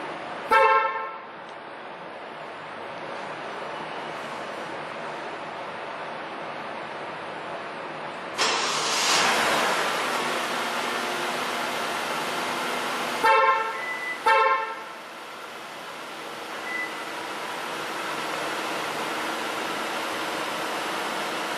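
A 2016 Genesis DH car with an Easy Car E300 remote starter is started from its factory smart key: horn chirps sound, then the engine turns over and settles into a quiet idle, with another chirp later.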